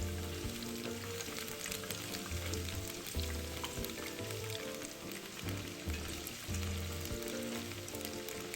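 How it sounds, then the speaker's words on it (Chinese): Chicken pieces deep-frying in oil for Szechuan spicy chicken, a dense continuous bubbling sizzle with fine crackles, moderately faint and close, no speech. "待鸡块定型后再翻面，炸至表面金黄，略带硬壳感"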